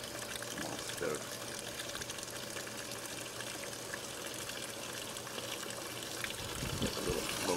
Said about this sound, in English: I gotta wait till the water fills up and make sure it shuts off before it goes off the tube